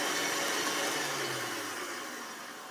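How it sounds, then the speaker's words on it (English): Kenwood K-mix stand mixer whisking sponge batter for mini coffee and vanilla Victoria sponges on speed 5, a steady broadband whirring hum that stays even and slowly eases slightly in level, with no talking. "we've let that sort of whisk round on the number 5 on the K-mix for about 3 minutes"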